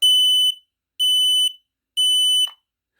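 Ceiling-mounted smoke detector being tested after a battery replacement, giving three loud, piercing electronic beeps of about half a second each, evenly spaced one second apart, then silence.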